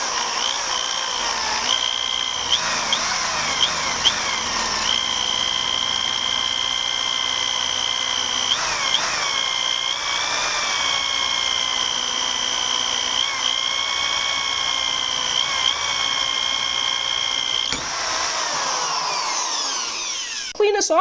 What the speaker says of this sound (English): We're going to just apply a small amount of pressure to the drill, and we're going to take it easy